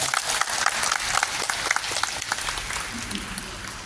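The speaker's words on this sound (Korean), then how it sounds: "박수 한번 부탁드리겠습니다." Applause rises from attendees at a reconstruction association general meeting of landowners for the Haan Jugong Complex 5 redevelopment, greeting a committee chair candidate; steady crowd clapping, moderately loud and continuous, fading slightly toward the end.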